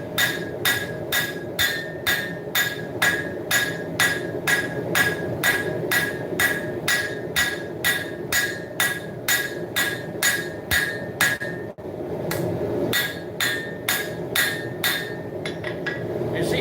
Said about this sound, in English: So I'm going to come in here and start forging down the spine.